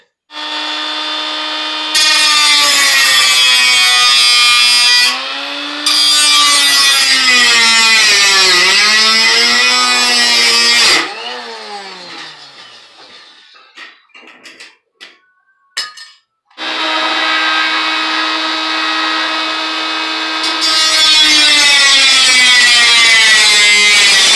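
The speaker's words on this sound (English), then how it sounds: "Now I'm just gonna cut off this part, the lips on here" Power tool cutting the aluminum lips off custom side skirts for an H22 Civic, a loud high whining grind in long bursts that bends in pitch under load, broken by a pause with scattered clinks and handling noises.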